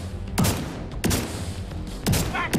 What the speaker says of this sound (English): One shotgun blast is like enough to kill anybody